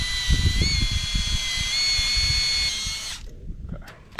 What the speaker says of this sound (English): When you're drilling into trees and attaching things to trees, always use stainless steel.